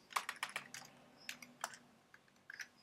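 Keys clack on a computer keyboard while a command is entered in a terminal, a quick run of close, crisp taps in short bursts with small gaps between.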